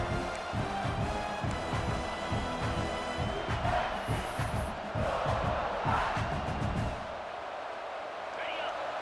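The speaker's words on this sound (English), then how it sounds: "The crowd getting behind this defense as they try to get a stop in the red zone." Stadium crowd in the College Football 26 video game roaring behind the defense in the red zone, a rumbling, rhythmic chant swelling under game sounds before fading near the end.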